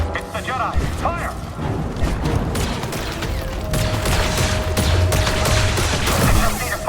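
Enemy blaster fire crackles in Star Wars Jedi: Survivor, rapid overlapping shots and mechanical clatter in a dense, loud battle mix, with shouted voices over the shooting.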